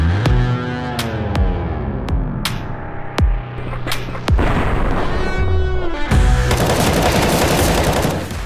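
Rapid machine gun bursts from a PUBG esports match, loud and close, with repeated sharp gunshots and booming impacts stacking into dense continuous fire, no talk over it.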